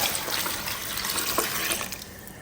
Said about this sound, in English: I'll go in with water,